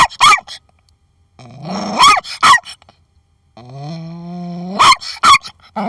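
A dog growling and barking, sharp close barks and yips broken by long rising growls and whines, loud and alone with short silences between bursts.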